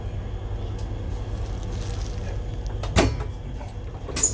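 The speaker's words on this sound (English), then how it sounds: "Waiting for this door to open." A train door slides open at Carrick-on-Shannon station in Ireland over a steady low rumble, with a brief clunk and hiss partway through.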